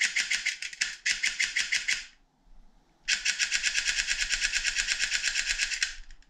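An airsoft gun with a XORTECH mosfet and a 160 spring fires rapid semi-auto bursts, crisp fast clattering shots in two long strings separated by a short pause, loud and close.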